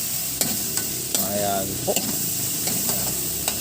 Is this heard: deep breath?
no